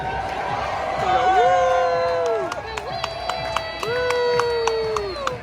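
A minor league baseball crowd at a Woo Sox game on a rainy day cheers and claps in the distance, while nearby voices talk and shout over it with whistle-like calls.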